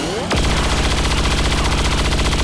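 Soldier's heavy gunfire at an armored heavy turret in XCOM 2: a sharp onset, then sustained rapid, loud automatic bursts rattling steadily to the end with no talk.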